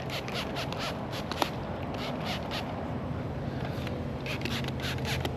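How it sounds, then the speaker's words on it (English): Quick clusters of short hissing spray bursts from a trigger bottle, fired in two rapid series over a steady background hiss. "Spray it down real good."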